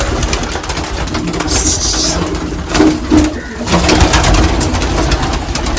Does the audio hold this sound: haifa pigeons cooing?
yes